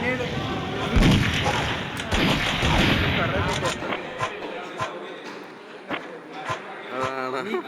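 In a Mini Militia classic match, a grenade blast booms early, followed by scattered gunshots and quick game effects, with someone speaking excitedly over the action.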